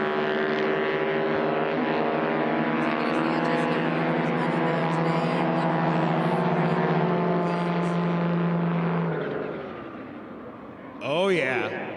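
A Highlander XL race plane with a turbocharged Yamaha Sidewinder engine drones loudly and steadily at an air race, a strong harmonic engine tone that fades near the end as a voice comes in.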